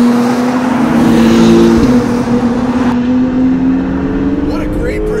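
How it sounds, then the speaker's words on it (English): 2019 Acura NSX driven fast on the Long Beach Grand Prix street circuit, its engine droning loudly with a steady high-revving tone, pitch shifting as it accelerates and lifts, heard from inside the car. "This car is so easy to drive fast."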